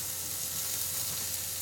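Mushrooms sauté in a pan, browning on one side, giving a steady, even, hiss-like sizzle throughout at moderate volume with no talk.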